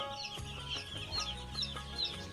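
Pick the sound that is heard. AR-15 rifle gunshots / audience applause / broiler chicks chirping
broiler chicks chirping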